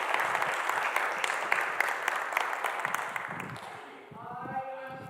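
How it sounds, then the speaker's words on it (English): Sustained applause from a crowd, steady clapping that fades toward the end as a voice begins speaking. "I want everybody now to give a big round of applause to Darren Adams"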